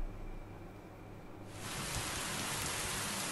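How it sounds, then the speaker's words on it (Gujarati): Steady rain falling over Ahmedabad, India, a soft hiss that swells suddenly into a dense, heavy downpour about halfway through, loud and continuous with no voices. "કેટલાક વિસ્તારોમાં વરસાદ ખાબક્યો"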